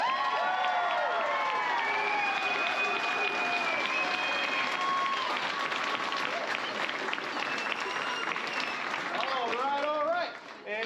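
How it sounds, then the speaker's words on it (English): An audience applauds the cast of a Johnny Appleseed stage production in Great Falls, Montana, giving dense, loud, sustained clapping with cheers and children's shouts mixed in before it thins out at the end. "Give this cast one more round of applause."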